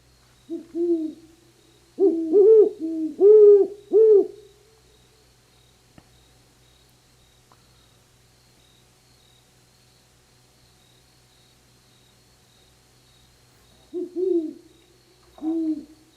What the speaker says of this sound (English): Great horned owl. Let's listen to a great horned owl.